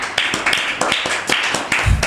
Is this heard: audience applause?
yes